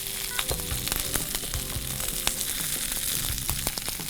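Cooked chicken for chicken manchurian frying in a pan while being stirred, a steady close sizzle broken by frequent scraping and clacking strokes of the spoon, with no one talking.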